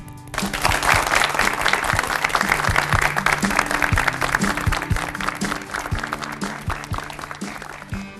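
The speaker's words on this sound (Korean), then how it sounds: "여러분 큰 박수로 맞아주시기 바랍니다" A concert audience applauds as musical actors are welcomed to the stage, sustained clapping holding steady for several seconds while a band's music plays underneath.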